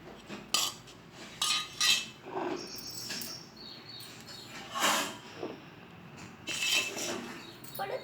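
Tulsi leaves, ajwain and garlic are pounded in a mortar for a home cough remedy, giving irregular close clinks and knocks of the pestle in uneven bursts with short pauses between strikes.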